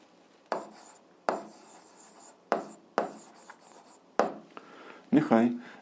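Pen or chalk writing out an algebra solution, heard as a series of short scratchy strokes and taps at close range, roughly evenly spaced, with a faint voice near the end.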